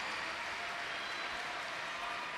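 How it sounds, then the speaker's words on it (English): A crowd at a London 2012 Paralympic table tennis match claps in dense, steady applause that fills the hall, heard faintly and without a break for a few seconds. "the crowd are going wild for this Great Britain team"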